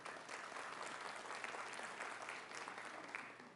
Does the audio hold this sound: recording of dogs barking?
no